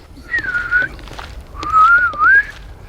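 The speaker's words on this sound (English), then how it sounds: "I can whistle." A person whistles outdoors while walking back to a car: two short, clear melodic phrases, the first rising and held, the second wavering and climbing, close and fairly loud over faint background rustle.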